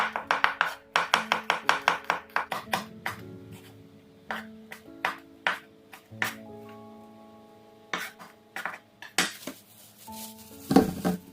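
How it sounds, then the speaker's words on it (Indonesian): Knife slicing shallots, garlic and chili on a cutting board for a stir-fry seasoning, heard as a fast run of close, crisp chopping taps that slows to scattered cuts, with a few clinks of kitchenware and no talking. "Jadi tumisannya itu bawang merah, bawang putih sama cabai diiris-iris tipis seperti biasa aja ya."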